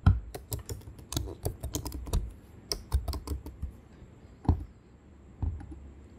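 A Wi-Fi password typed on a computer keyboard: brisk, uneven clicks and key thumps, close and fairly quiet, with short pauses between bursts.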